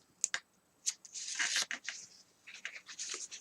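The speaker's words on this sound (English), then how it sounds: "We're going to take the tape off." Tape peeling off paper in short, crisp tearing strokes, faint and close, with a few quick pulls followed by longer ripping stretches.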